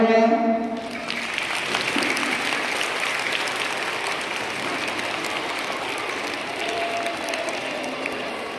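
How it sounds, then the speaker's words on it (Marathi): A crowd claps steadily after a lathi stick-twirling contest, dense applause that starts after a brief voice and holds at an even level for about eight seconds. "टाळ्या"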